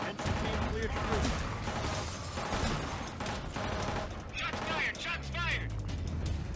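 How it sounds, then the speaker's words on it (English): Dense gunfire and bursts from a firefight in the PS4 video game Killzone Shadow Fall, loud and continuous, with voices talking over the shooting. "Shots fired!"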